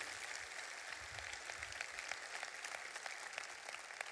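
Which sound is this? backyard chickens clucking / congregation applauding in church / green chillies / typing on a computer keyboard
congregation applauding in church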